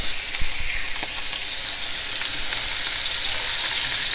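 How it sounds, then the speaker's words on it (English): A Longhorn Renegade steak sears in butter in a cast iron skillet, giving a steady, loud sizzle with a few sharp pops and spatters early on, close and unbroken throughout. "that's going to put a nice sear on this meat"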